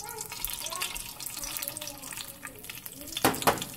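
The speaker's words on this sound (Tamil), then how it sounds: "இப்போ அதே ஆயிலில் கடுகு சீரகம் போட்டுக்கோங்க" Mustard and cumin seeds dropped into hot oil used to fry brinjal, a loud hissing sizzle with crackling pops that rise toward the end.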